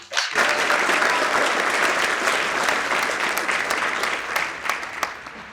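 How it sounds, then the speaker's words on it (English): An audience claps for international student early graduates at a graduation ceremony. The applause is loud, sustained and evenly dense, starting abruptly and holding steady for several seconds. "I think every one of you should deserve a round of applause"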